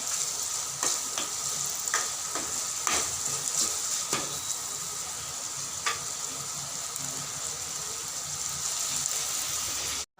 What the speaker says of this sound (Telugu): టమాటా ముక్కలు కూడా బాగా వేగనివ్వాలి. టమాటా ముక్కలు వేయకపోతే కర్రీ అసలు బాగోదు. ఈ విధంగా కలుపుకుంటూ ఉండండి